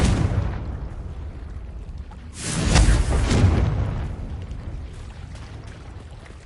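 A Confringo fire spell explosion in the video game Hogwarts Legacy bursts out as one loud, deep boom whose rumble swells and then fades slowly over a few seconds, standing alone with no voices.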